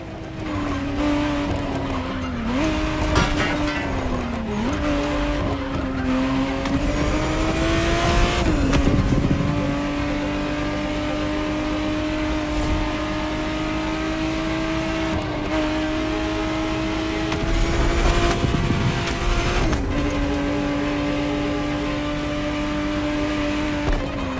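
A 1991 Ferrari 512 TR Testarossa in The Crew Motorfest holds a steady, sustained engine drone with smooth pitch rises and dips as it shifts through gears, plus occasional tire noise, with no talking.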